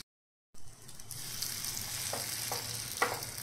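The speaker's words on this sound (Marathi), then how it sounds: "इथे मी पूर्ण असे आप्पे पात्रामध्ये टाकून घेतलेले" Batter of sprouted moong beans sizzles in an appe pan, a steady close hiss of frying that starts abruptly after silence, with a few faint pops and ticks.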